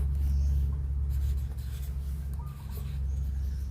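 Pen scratching across paper in short, steady strokes, set against a constant low hum that runs the whole time.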